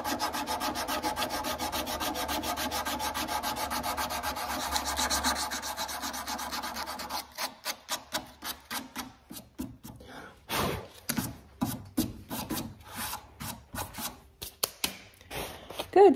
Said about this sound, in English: We're going to use a 120 sandpaper and give it a sand.